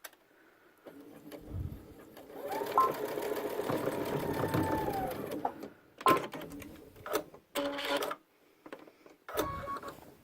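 A sewing machine stitches a backpack zipper in close, loud whirring bursts of rapid needle hammering, starting and stopping several times with short pauses between runs.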